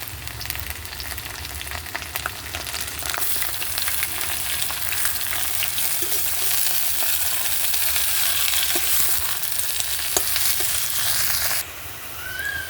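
Pumpkin greens frying with browned onions in a pan: a dense, continuous sizzle that grows louder after the greens go in, with faint stirring clicks, and then drops off sharply near the end.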